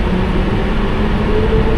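A London Underground Piccadilly Line train runs, heard from the rear cab as a loud, steady low rumble and drone of motion with no breaks.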